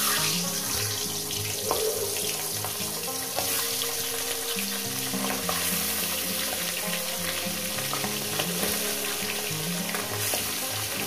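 Pieces of katla fish fry in hot oil with a dense, steady sizzle that stays close and even throughout, broken by a few soft clicks of handling.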